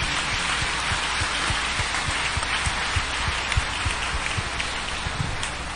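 A congregation applauds at an episcopal ordination, a dense, steady patter of many hands clapping that holds evenly throughout, fairly distant and moderately quiet.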